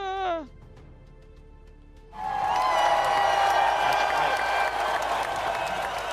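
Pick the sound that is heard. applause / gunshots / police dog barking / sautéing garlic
applause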